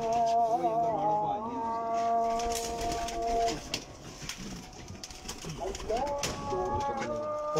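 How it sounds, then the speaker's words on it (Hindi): Blue pigeons coo in low, rolling calls, close by and fairly loud, with a voice talking over part of it and some shuffling noise between coos. "अब नीले कबूतरों का शौक कराते हैं आपको।"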